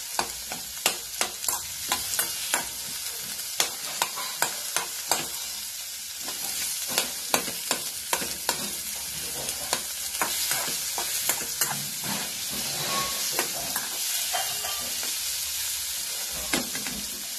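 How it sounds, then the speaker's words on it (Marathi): Onion fries in a pan with a steady near sizzle while a spoon stirs it, knocking and scraping against the pan in repeated sharp clacks throughout. "आता चांगला भाजून घ्यायचा कांदा."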